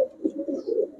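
A pigeon coos close by in a short, soft rolling phrase of low throaty notes, with a faint higher chirp behind it.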